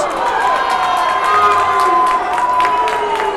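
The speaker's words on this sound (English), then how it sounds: "The refs getting some cheers from one end and boos from the other." Hockey arena crowd at a championship game between the Warriors and Flyers, cheering mixed with booing aimed at the referees, a steady loud roar of many voices with scattered shouts throughout.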